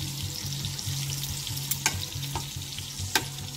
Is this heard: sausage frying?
yes